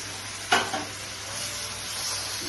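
Marinated mutton hits a hot pan for Bengali mutton kosha with a sharp clatter, then settles into a steady, even sizzle that continues to the end.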